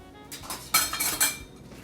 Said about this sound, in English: Let me grab a spatula,